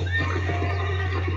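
Horse in the Red Dead Redemption video game neighing in a steady whinny over a low constant hum, with no talk.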